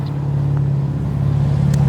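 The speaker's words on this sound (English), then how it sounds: "a loud truck just went by." A loud, steady vehicle rumble with a strong low drone, like a heavy truck rolling past close by, filling the whole moment with no speech.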